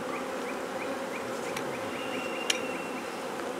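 Honeybees swarm and buzz around a strong hive during supplemental feeding, a dense steady drone close by with individual bees whining past, and one sharp click partway through.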